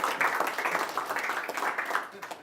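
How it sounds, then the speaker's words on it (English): Indoor conference audience applause, a dense patter of many hands clapping steadily at moderate volume and fading slightly at the end. "Give them a round of applause"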